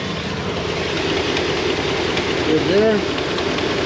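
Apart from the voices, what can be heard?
Dodge Durango engine idling, possible exhaust leak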